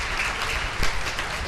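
A congregation inside a church claps during a Mass, a brief and fairly loud burst of applause that holds steady from start to finish.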